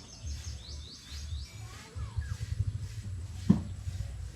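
Small bird chirping in quick repeated high tweets, with a fainter call midway, over low background rumble.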